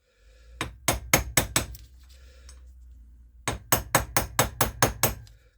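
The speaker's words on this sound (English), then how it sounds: "I'd just like to finish off with an appropriately sized socket, just to tap it home completely" Sharp metallic taps from a socket driving a part home on a Classic Mini SPI inlet manifold: a run of five quick blows, a pause, then about seven more in steady rhythm, close and crisp.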